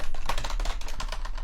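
Fingers type on a computer keyboard while an email is entered, a steady run of close, quick key clicks with uneven rhythm and no talking.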